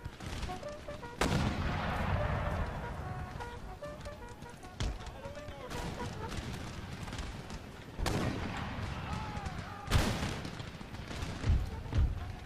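Musket volleys and artillery booms in the Empire Total War video game, crackling gunfire and heavy blasts repeating over a continuous battle din, with someone talking over the action.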